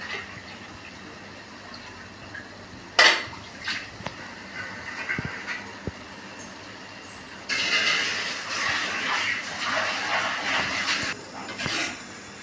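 Dal cooking water poured from a vessel into a pot of snake gourd sambar, a steady splashing gush that runs for several seconds after a few clinks and taps, close and moderately loud.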